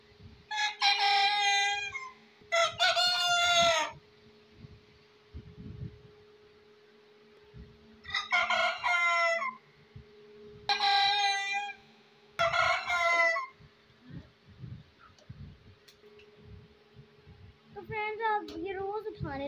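Roosters crow in the early morning at a home, several separate loud, close calls spaced across the stretch, with a steady low hum and faint clucking and rustling between them.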